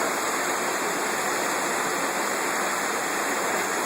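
River water rushes steadily nearby on a mountain outing, a dense, even wash of broadband noise that holds constant throughout with no voices.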